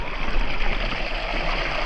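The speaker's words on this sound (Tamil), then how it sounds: "இந்த பக்கமாக கொஞ்சம் கொஞ்சமாக தண்ணி விழுதுங்க" Water trickling and splashing into the Emerald Pool in Krabi, a steady broadband rush like a small stream, close and fairly loud with no voices over it.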